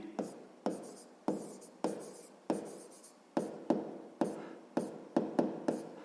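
Pen strokes on paper during a sixth-grade math exercise come as a series of short, close, soft scratching bursts, evenly spaced at about two per second.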